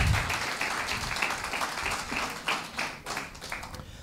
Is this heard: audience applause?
yes